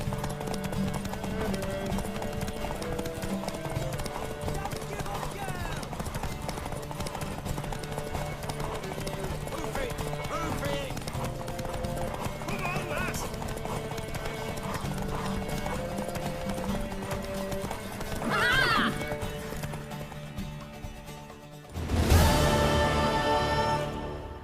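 Horse galloping in The Witcher 3, rapid rhythmic hoofbeats over a musical score, with a neigh near the middle and a louder burst at the end, under some game dialogue.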